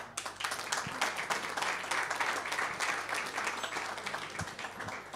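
Applause at a Lions club Christmas dinner, a crowd of diners clapping steadily for several seconds, fairly distant and even, with no talk over it.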